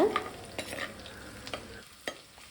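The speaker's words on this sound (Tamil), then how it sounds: "இந்த ரெண்டுமே கொஞ்சம் நல்லா வதக்கி எடுத்துக்கோங்க ஒரு லைட்டாக அதோட பச்சை வாசனை போய் ப்ரௌன் கலர் வரும் அது வரைக்கும் வதக்கி எடுத்துக்கோங்க" Garlic and ginger sautéing in a pan for a Kerala-style fish curry, with a soft steady sizzle under a few short scraping stirs of a spatula, close up, no voices.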